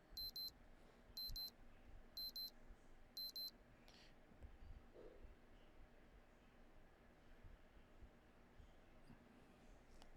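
A timer alarm sounds four quick sharp beep bursts at a steady one-second pace, faint and thin over a quiet room hiss, then stops.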